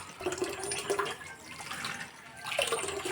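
Water running and splashing while vegetables are washed in a Filipino home kitchen, a faint uneven trickle and slosh with brief louder gushes, close and without talking.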